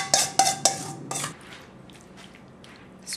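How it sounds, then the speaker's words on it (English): Vegetable pie filling is spooned into a tart pan: three sharp metallic clinks of a spoon against the pan, a softer scrape, then quiet wet shuffling and faint ticks near the end. "Let's fill our pie pan. I'm using a tart pan"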